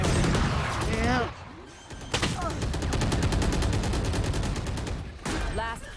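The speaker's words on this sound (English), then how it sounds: "They're just shooting everywhere." Video game gunfire rattles in loud, continuous rapid bursts with short pauses, while voices talk over the shooting.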